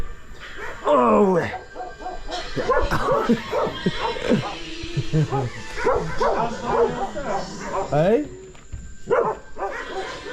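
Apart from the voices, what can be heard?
dogs barking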